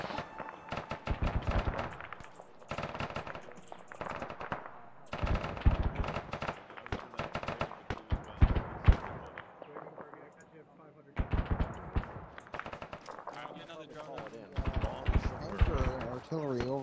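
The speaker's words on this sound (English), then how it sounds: "Artillery over behind that house." Rapid gunfire and heavy artillery bursts come in dense, clattering volleys with short pauses during an amphibious reconnaissance operation, loud and close rather than distant, with voices talking amid the firing.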